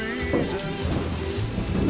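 Steady rain falls on a surface, a dense continuous hiss with scattered drops, close and fairly loud in a roofing advert, with a voice faintly mixed in.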